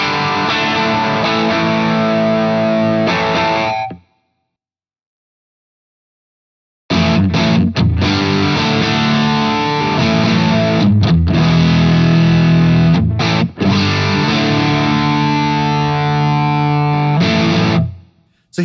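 Electric guitar driven through a Tube Screamer overdrive pedal, loud and continuous with sustained distorted chords, a pause of about three seconds, then more overdriven playing to the end, with no talking.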